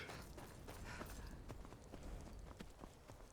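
Horse hooves clip-clopping at a run in the video game Skyrim, a quick steady rhythm of faint, distant-sounding hoofbeats over a low background.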